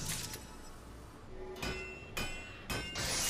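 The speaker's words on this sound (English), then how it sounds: "Nothing like the rhythmic sounds of a hammer striking iron." A blacksmithing hammer striking iron in Final Fantasy XIV, three sharp metallic clangs spaced about half a second apart, ringing over a steady background of game ambience.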